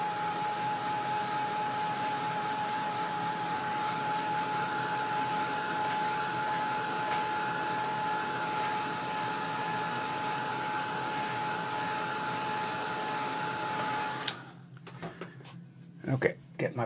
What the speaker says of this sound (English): I'm going to dry this again